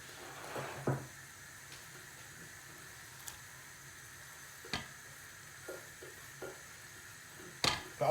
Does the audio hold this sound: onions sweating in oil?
yes